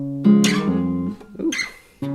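A short guitar riff, a few plucked notes with slides and bends, played alone at moderate volume.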